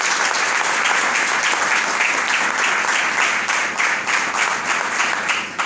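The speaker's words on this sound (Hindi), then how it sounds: "सारी टीम के लिए जोरदार ताली।" Loud, dense audience applause for a team and its leaders at a Safe Shop business gathering, sustained and steady for about six seconds with no talk over it.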